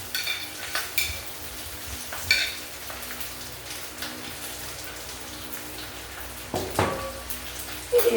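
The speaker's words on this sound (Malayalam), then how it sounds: "ഇത് നമ്മൾ ഇളക്കി കൊടുക്കുക." Drumstick leaves are stirred in a hot cooking pan, with a soft continuous sizzle broken by a few scraping strokes of a spoon against the pan.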